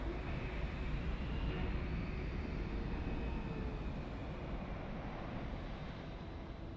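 Steady, broadband aircraft engine roar from Microsoft Flight Simulator at Dallas Fort Worth, a continuous even drone with no breaks or changes.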